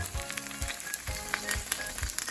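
Okonomiyaki fries in a pan, giving a steady soft sizzle with small crackles and light clatter at close range.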